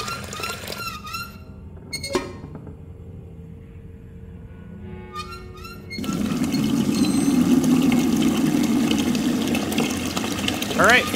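Water running from a faucet into a bucket in the video game Overclocked. After a few short clicks and clanks, a steady rushing fill starts partway through and holds loud to the end.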